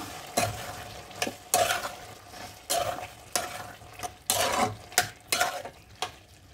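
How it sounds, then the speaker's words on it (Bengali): Stirring bottle gourd and prawns with sugar in a pan, a spoon scraping and knocking in uneven strokes over a soft background sizzle, close and fairly quiet. "এবার একটু নাড়িয়ে নেব।"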